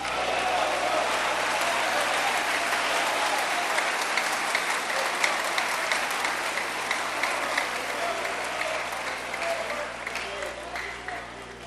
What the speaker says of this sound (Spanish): Denle palmas al Señor un momento.